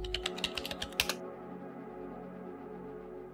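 Brisk keyboard typing on a computer while setting up a Recoil.js project, a quick run of close, crisp keystrokes during the first second before fading to a quiet room hum.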